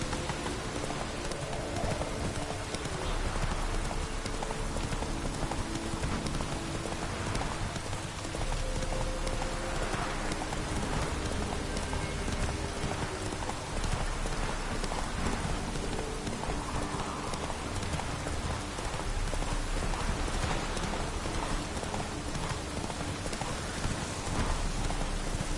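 Roach the horse gallops in The Witcher 3: Wild Hunt, a steady, continuous run of hoofbeats over a constant wash of rain, with no talking.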